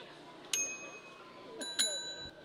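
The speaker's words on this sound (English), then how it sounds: "I want you to rate my bell" A bicycle bell rings twice in quick succession, bright metallic dings with a short ringing tail, close by over a quiet background.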